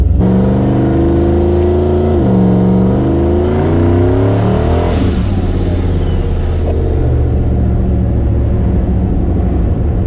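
A truck with a 6.0 turbo engine launches hard with the front tire lifting, a loud, close roar whose pitch climbs steadily, then eases and settles to a steady drone.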